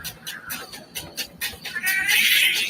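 A cat meows in a short series of repeated calls, then a longer drawn-out yowl, close and fairly loud.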